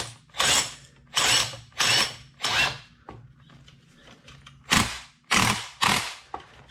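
Spring compressor being cranked while Eibach lowering springs go onto a Porsche 911 Carrera S (991.2), with several close ratcheting bursts in an uneven rhythm and a short pause in the middle.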